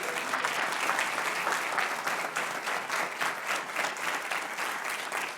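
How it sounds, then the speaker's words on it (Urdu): A church congregation at an Urdu-Hindi sermon claps together in a steady, even roar of many hands, moderately distant and continuous from start to finish with no voices rising above it. "زوردار تالی بجائے اس کے لیے"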